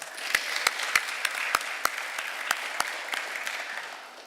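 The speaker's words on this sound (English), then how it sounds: "Another round of applause." A crowd at a rehabilitation centre ceremony claps in a sustained round of applause, with sharp individual claps standing out before it gradually fades.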